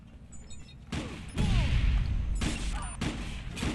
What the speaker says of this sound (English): Who's shooting me? Oh, he's trying to shoot me.